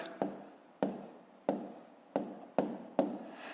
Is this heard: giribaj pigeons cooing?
no